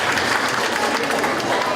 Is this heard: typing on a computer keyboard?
no